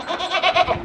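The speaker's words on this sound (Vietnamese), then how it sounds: "Mấy em dê." Young goats bleating close by, several short, wavering bleats in quick succession in under a second, with no talk.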